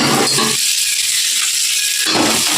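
Large onions and a green chili sautéing in a hot pan of oil with cumin, a loud, steady broadband sizzle filling the whole short stretch, dipping briefly in the middle.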